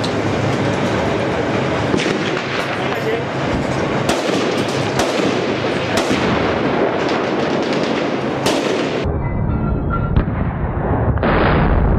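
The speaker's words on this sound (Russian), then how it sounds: "Внезапно головной танк подрывается на кумулятивной мине." Continuous heavy roar and crackle of battle as a lead tank is blown up by a shaped-charge mine in Jobar, Syria, with loud blasts and rumbling throughout and a sudden cut to a thinner noise near the end.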